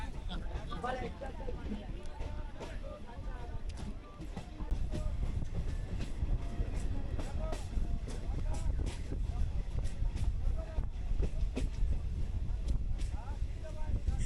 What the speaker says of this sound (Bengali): ট্রেনটা খুব সুন্দর বাঁক নিচ্ছে